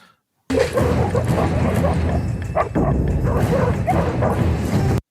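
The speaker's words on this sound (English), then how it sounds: "All right, the dogs found it." Dogs bark and yip in a Rambo video game, a steady dense burst of barking with whimpers, loud and close, over continuous game background noise.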